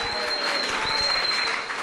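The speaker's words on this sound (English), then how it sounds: "So yes, I get another applause." An audience applauding at an awards ceremony for a hackathon event, dense steady clapping from a crowd, close and fairly loud throughout.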